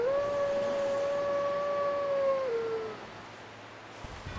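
The great grey wolf Sif, a giant boss in the video game Dark Souls Remastered, lets out a long, loud, sustained howl that holds steady and then slides down, with no talk over it.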